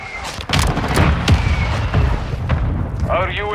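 Artillery fire mission strike in the Call of Duty MW2 video game, a burst of heavy booms and explosions in quick succession, loud and close, with a voice heard toward the end.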